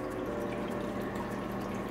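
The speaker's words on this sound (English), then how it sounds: "Now we're going to add in 1/2 cup of beef broth." Beef broth poured into a rib sauce of red wine and coconut oil, a continuous soft splashing trickle that stays faint and even throughout.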